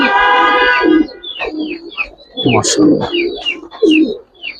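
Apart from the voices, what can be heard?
Silver Makra pigeon cooing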